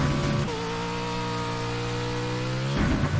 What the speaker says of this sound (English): So you can hear I'm over revving it. Engine's getting hot.